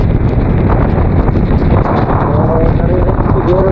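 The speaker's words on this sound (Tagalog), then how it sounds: "ang sobrang lakas na hangin na dulot ni Super Typhoon Nando" Super Typhoon Nando's strong wind roars and buffets the microphone nonstop while riding on Halsema Highway in Benguet, a loud, close, rumbling gust with faint whistling tones near the end.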